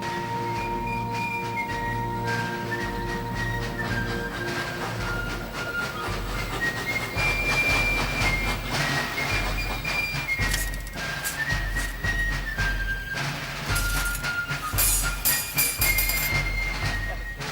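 A train rolls along the rails carrying soldiers to the battlefield under loud, continuous orchestral music, with a steady rhythmic rumble beneath the melody.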